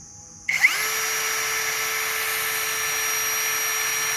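A Tanzu TZ-Z-80MT cordless drill spins up after a short switch tap and runs at its second speed setting with a steady, close, high whine that holds without letup to the end.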